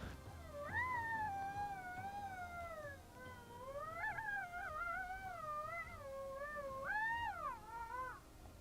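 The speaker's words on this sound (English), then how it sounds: "We got coyotes howling all over the place. We got domestic dogs howling with them." Coyotes and domestic dogs howl together on Arizona public land, overlapping wavering, sliding howls rising and falling continuously, moderately distant and faint, with no talking.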